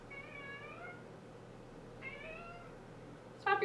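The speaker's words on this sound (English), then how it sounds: "My cat's crying because he's like really upset that I won't let him have the burrito" A house cat cries out in two drawn-out, plaintive meows a couple of seconds apart, close and clear over a quiet indoor background, with a sharper third cry starting right at the end.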